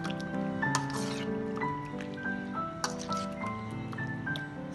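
Chicken malai boti marinade being mixed by hand in a bowl, wet squelching and soft dripping sounds continuing steadily at close range, with faint tonal background hum and no speech.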